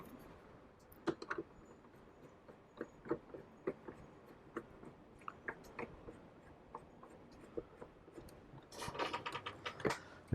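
Screws being tightened on the body halves of a Hayward Navigator pool vacuum, heard as a series of sharp ratcheting clicks and small plastic taps at close range, ending in a denser cluster of clicking.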